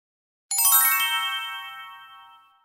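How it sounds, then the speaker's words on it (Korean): A single bright chime rings out as a phone notification, striking sharply after a moment of silence and then fading slowly with a shimmering tail. "새벽 2시 민수의 휴대폰이 짧게 진동합니다"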